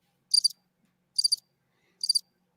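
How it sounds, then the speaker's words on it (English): Three short bursts of cricket chirping at evenly spaced intervals, each a quick high-pitched trill, set against near silence with no voices. "Should I put some crickets?"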